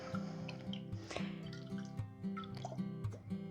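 Salt being stirred into filtered water in a jar to make brine, heard as steady wet swirling and soft drips with faint clinks, close and alone without any talk.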